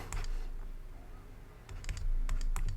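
Bursts of quick clicking keystrokes on a computer keyboard, close and fairly quiet, with a short pause between flurries.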